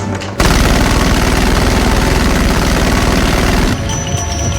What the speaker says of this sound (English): He aimed at the sofa and unleashed a barrage of fire.